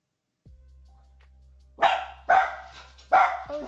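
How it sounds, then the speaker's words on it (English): A dog barks three times in sharp, loud, close bursts, spaced about a second apart, over a low steady hum, with a faint whimper at the end. "Dog."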